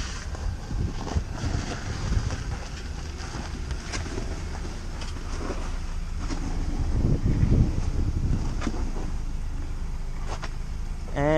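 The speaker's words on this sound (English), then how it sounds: "Here's my coworker driving this beautiful car inside the showroom." A new Hyundai Tucson rolls slowly into a showroom, a low steady engine rumble that swells a little midway, mixed with indoor clatter and a few faint knocks, no talking.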